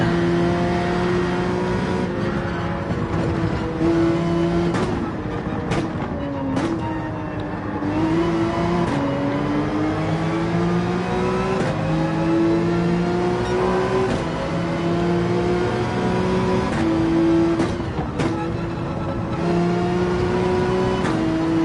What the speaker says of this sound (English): BMW sounding mean.